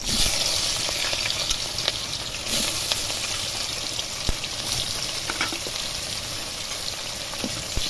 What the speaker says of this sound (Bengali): পেঁয়াজগুলো একটু লালচে করে ভেজে নেবো